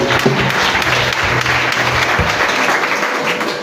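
A church congregation claps and cheers in praise, a dense, steady wash of applause filling the room from start to finish with no gaps.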